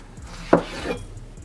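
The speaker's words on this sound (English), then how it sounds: "throw them in an aluminum pan" Halved Roma tomatoes land in an aluminum pan with a single soft, dull thump followed by a faint secondary tap, close and quiet.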